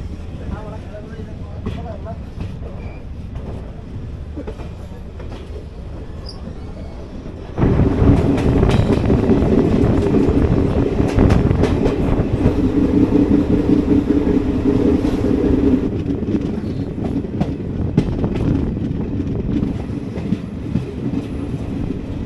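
A train pulling out of Pampore station on the line from Srinagar rumbles and clatters, growing suddenly louder partway through and staying steady and close.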